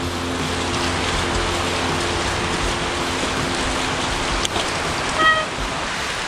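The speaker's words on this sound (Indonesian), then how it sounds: "Hujan deras sekali." Heavy rain pours steadily in a forest on a mountain bike trail at UI Bike Park, a loud, dense, continuous hiss close by with a faint low hum beneath and no talking.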